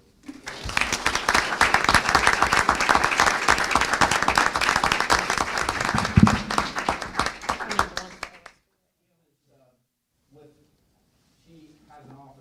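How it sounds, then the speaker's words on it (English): Applause at a school board meeting: loud, dense clapping from a room of people that runs for about eight seconds then stops abruptly, followed by near silence with a few faint voices. "round of applause"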